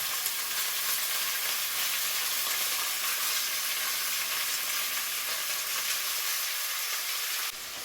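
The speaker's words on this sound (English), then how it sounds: "Now I'm adding in the pork. Spread it out in one single layer, don't overcrowd it. Let it sit undisturbed so we get that nice sear." Pork sears undisturbed in a single layer in hot cooking oil in a pan, a loud, continuous close-up sizzle holding steady throughout and cutting off abruptly at the end.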